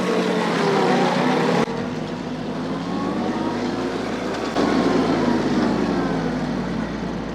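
A vehicle towing a fertilizer spreader across a farm field in high gear, a steady loud engine drone with a sudden shift in pitch partway through, no talking.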